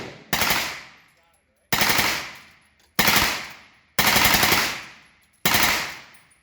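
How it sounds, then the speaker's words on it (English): A 9mm AR-15 pattern carbine, a Colt Commando in the H3VR virtual reality shooter, fires five loud, close bursts of rapid automatic shots, each trailing off in a ringing echo before the next. "So I had never actually fired a 9mm AR-15 pattern guns."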